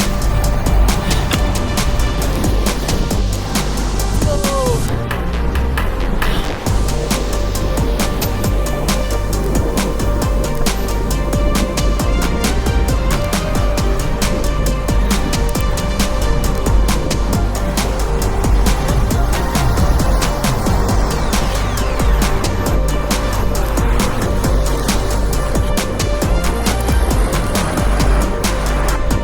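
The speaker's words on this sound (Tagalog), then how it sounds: "Daming sasakyan," Heavy road traffic circles a busy roundabout in Manila, giving a loud, continuous rumble of many car and motorcycle engines with horns and passing vehicles throughout.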